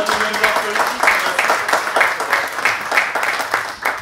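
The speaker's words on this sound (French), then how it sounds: "Oui, bravo. Merci, on l'applaudit." Steady applause from a panel discussion audience, dense clapping sustained throughout at a lively, even level.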